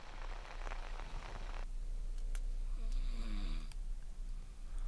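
Expedition members sleep through a cold rainy night in the Tian Shan mountains of Kyrgyzstan, one snoring in slow rasping breaths close by while rain hisses steadily in the background.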